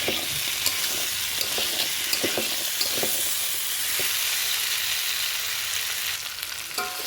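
Chickpeas being sautéed in a pan with tomato for a ghugni, a loud steady sizzle with scattered stirring scrapes and clicks, close, with no speech.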